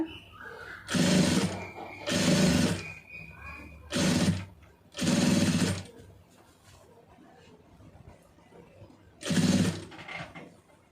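Sewing machine stitching fabric in short bursts, five close, loud runs of rapid stitching separated by pauses with quiet handling.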